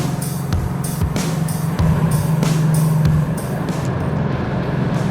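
Ford Mustang with a scraping header driving on a road, a steady close engine drone and road rumble with faint rattles and brief thumps.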